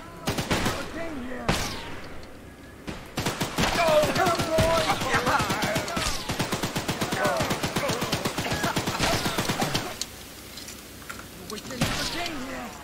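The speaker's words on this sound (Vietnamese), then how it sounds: "Hiếu cần phải lên xe Hiếu bắn con quỷ đó đúng không?" Rapid bursts of gunfire at the spider-legged train monster in the horror game Choo-Choo Charles, a near-continuous automatic volley in the middle stretch framed by a few isolated shots before and after.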